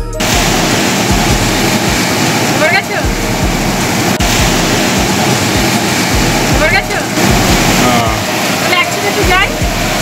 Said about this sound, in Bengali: এই যে পিছনে সমুদ্রের ঢেউ দেখছেন, এই সমুদ্রের ঢেউ তো অনবরত এসে আছড়ে পড়েছে।